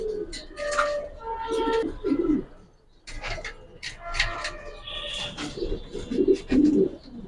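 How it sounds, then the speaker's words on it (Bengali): Giribaz pigeons coo repeatedly in low, throaty bursts, with some fluttering and chatter from other birds around them; a voice speaks at times in the background. "এগুলো উড়ানো কবুতর যথেষ্ট সুন্দর কবুতর"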